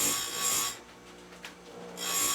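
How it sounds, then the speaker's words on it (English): A grinding wheel works metal while teeth are being ground, giving a harsh broadband rasp that drops away in the middle and returns, close and steady. "that cool grind does a good job, but listen to that wheel"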